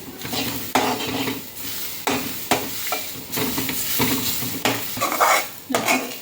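A spoon stirs grated coconut as it lightly roasts in a pan, repeated scraping strokes knock against the metal every second or so, with a soft sizzle underneath, close and fairly loud.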